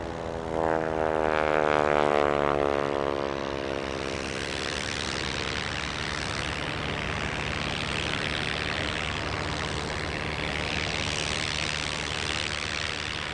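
A North American NA-64 Yale propeller aircraft at an airshow, its engine drone loud and close with a rising-then-falling pitch as it passes, then a steady broad roar continuing to the end.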